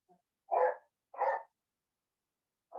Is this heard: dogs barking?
yes